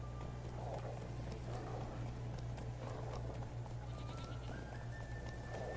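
Steady clip-clop of horse hooves in a repeating rhythm over a constant low hum, with a faint tone rising near the end, in the video game The Witcher 3.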